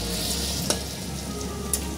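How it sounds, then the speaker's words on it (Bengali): Chopped onion, minced garlic and ginger-garlic paste fry in a pan with a loud, steady sizzle, broken by a couple of brief sharp clicks from stirring. "পেঁয়াজটা ব্রাউন করে ভেজে নেব। এখানে আমি রসুন কুচি করে রেখেছিলাম, 1 চামচ রসুন কুচি আমি দিয়ে দিলাম এর মধ্যে।"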